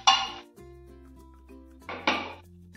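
A cooked thalipeeth made with bottle gourd is moved onto a plate, with a few close clinks and scrapes of dishes, a loud clatter at the start and another near the end.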